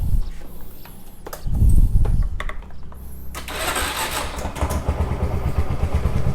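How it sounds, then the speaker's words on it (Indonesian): A Suzuki Shogun motorcycle is started on its electric starter, a short cranking burst followed by the small engine catching and settling into a steady, close idle with no talking. "Pakai electric starter aja."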